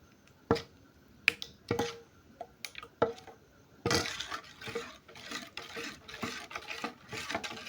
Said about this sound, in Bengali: এখন মিক্স করে নেব সব উপকরণগুলো